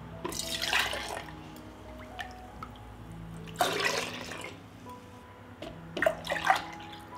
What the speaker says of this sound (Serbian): Sada mleko sipam u čiste tegle